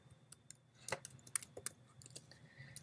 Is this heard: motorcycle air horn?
no